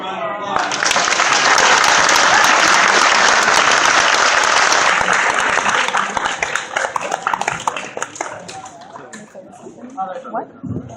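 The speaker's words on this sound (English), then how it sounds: "A big round of applause." A convention crowd bursts into a loud round of applause for a panel at Boroughcon. The clapping holds strong for several seconds, then thins out into scattered claps as voices and chatter take over.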